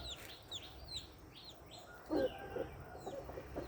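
Chickens cluck quietly nearby in a few low, short bursts, while thin bird chirps repeat above them. Everything is faint and distant against soft background noise, and no one speaks.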